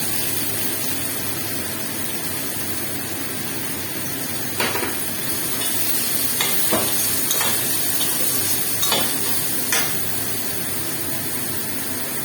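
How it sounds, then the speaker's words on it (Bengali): Diced onion frying in white oil for a Hyderabadi chicken dish, heard as a dense, steady sizzle with a few brief clinks of a utensil against the pan partway through, and no talking. "এবার ডুমো করে কুচিয়ে রাখা পেঁয়াজটা এই তেলে দিয়ে দেব।"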